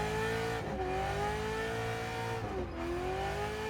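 A car drifts through a turn with a handbrake-assisted angle, its engine droning loudly and steadily while tires squeal in a sustained wail that dips twice as the car shifts its slide.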